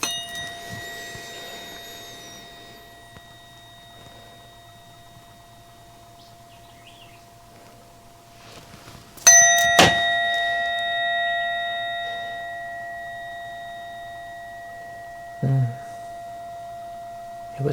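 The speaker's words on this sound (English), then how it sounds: "So I'm going to use the tuning fork for his stomach." A tuning fork struck and held over a person's stomach, ringing as a steady pure tone with bright overtones that slowly fades, followed by a second, shorter strike later on.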